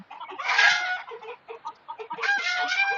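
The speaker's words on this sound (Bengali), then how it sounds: "এখানে কোনো রাতা মুরগি নাই সবগুলা মুরগি দেওয়া আছে" Hens clucking close by in a rooftop cage, several birds calling in bursts with short pauses between, loud and without talk.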